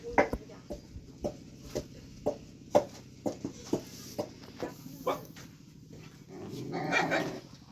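A dog barks repeatedly in short, fairly close, loud yaps with irregular spacing, growling and whimpering in between, ending in a louder burst of mixed noise, with no talk over it.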